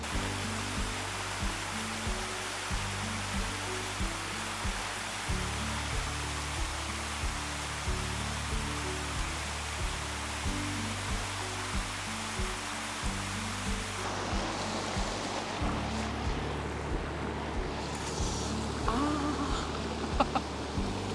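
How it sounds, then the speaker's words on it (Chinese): Shiraito Falls in Karuizawa, Japan, gives off a steady, broad rushing roar of falling water that runs unbroken throughout, with a repeating musical backing layered over it. "那现在我们就好好的欣赏瀑布吧"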